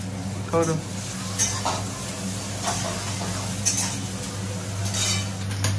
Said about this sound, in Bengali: এই যে ভেজিটেবিল গুলো ভাজছি